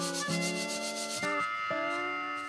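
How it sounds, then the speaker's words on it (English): A clutch plate is scuffed by hand on 100-grit sandpaper, giving a steady, close rasping rub with regular back-and-forth strokes over a faint tonal hum, with no talking. "I got like 100 grit here. I'm just going to take my plate and lightly scuff it on there."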